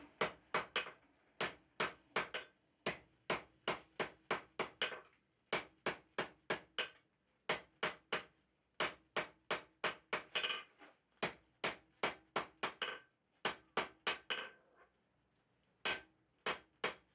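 A blacksmith's hammer taps two steel bars together during a forge weld, ringing metallic strikes in quick, even groups with short pauses between them, close and clear with no talking.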